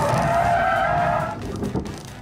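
A spinning car, a McLaren MP4-12C or Ferrari 458 Italia on a track, with tyres skidding in a loud sustained squeal that fades into rougher scrubbing and engine noise.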